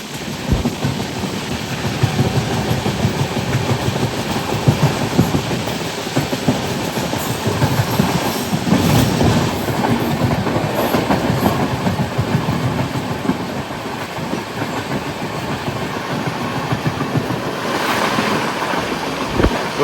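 The 02134 Jabalpur–Bandra Terminus summer special superfast express runs past steadily for the whole stretch, a broad continuous roar of wheels and rushing air with a thin high whine on top, loud and close throughout.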